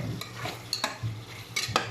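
Chicken being stirred and sautéed in a pan for a roast korma, rapid irregular scraping and clatter of a spatula against the pan over a light sizzle, close and busy with no one speaking.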